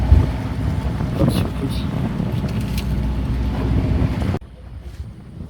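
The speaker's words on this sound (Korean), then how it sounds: "바람이 많이 불고 날씨가 안 좋습니다." Strong wind buffets a hairtail fishing boat at sea, a loud, continuous roar of gusting air over a low engine rumble, cutting abruptly to a much quieter background near the end.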